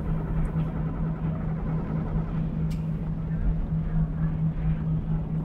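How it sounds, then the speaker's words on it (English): Diesel railcar engine running in Diesel Railcar Simulator on the Newbury branch line, a steady low idling drone with a constant hum, fairly quiet and alone. "Start the right engine."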